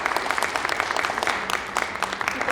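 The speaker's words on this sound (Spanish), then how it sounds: "Un aplauso para el doctor" An audience at a medical education session gives a doctor a round of applause, dense steady clapping from many hands filling the room, fairly close and continuous throughout.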